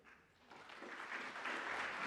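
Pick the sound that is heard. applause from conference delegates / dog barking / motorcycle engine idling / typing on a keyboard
applause from conference delegates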